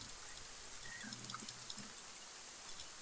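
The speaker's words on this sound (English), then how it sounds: "they added rain and weather" Rain falls in the video game Saurian as a soft, steady patter and trickle of water, faint and continuous with a few brief tones over it.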